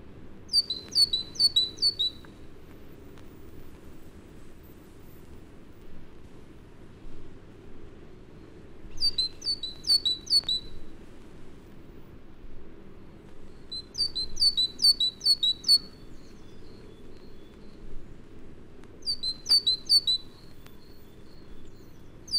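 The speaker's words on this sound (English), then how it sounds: "Here, a great tit, singing in a new forest glade in early October, sets off another one not far away." In a New Forest glade in early October, a great tit sings bright, repeated two-note phrases in spaced bursts while a second bird answers not far away, all over a quiet woodland hush.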